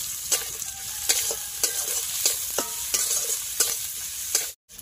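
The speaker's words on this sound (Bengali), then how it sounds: "আদা কুচি আরও একবার ভালোভাবে নাড়িয়ে নেব" Chopped ginger, garlic and onion stirred in a hot frying pan for spinach paneer, a spatula scraping in regular close strokes roughly every half second over a steady sizzle, ending in a sudden cut to silence.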